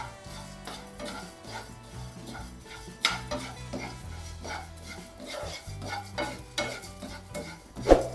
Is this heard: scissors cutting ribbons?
no